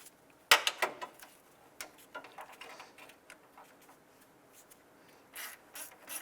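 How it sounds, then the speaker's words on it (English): Hose clamps on a 2001-2005 Honda Civic radiator hose are tightened with a hand tool, giving a series of quick ratcheting clicks and metallic ticks in irregular bursts, close and fairly quiet, without speech. "let's go ahead and snug down our hose clamps."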